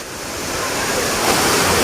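A waterfall near a goddess shrine roars with a constant, full-bodied rush of falling water that swells slightly louder partway through. It is close and unbroken, with no talking over it.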